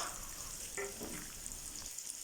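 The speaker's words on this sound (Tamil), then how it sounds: "நல்லா கிளறி விட்டுக்கோங்க நல்லா ஆயிலில் ரோஸ்ட் ஆகணும்" Bread pieces roasting in oil for bread halwa, stirred in a pan, give a steady close sizzle with a few scraping stirs partway through.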